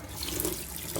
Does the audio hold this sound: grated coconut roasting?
no